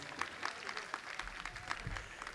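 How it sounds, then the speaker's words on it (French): Audience clapping at a stand-up comedy festival in Guinea, faint and somewhat distant, with quick claps recurring in an uneven rhythm. "Applaudissez pour la paix en Guinée."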